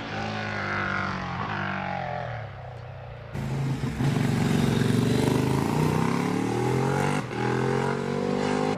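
A Triumph Triple motorcycle engine accelerating hard up the Prescott hillclimb, loud and close, its rising tone climbing through the gears with a brief shift break partway through.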